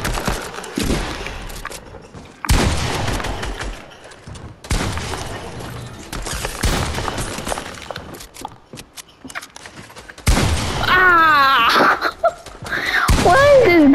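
Pistol fire in a prison-themed video game, sharp bursts of shots recurring through the clip, mixed with game effects and voices talking over the action.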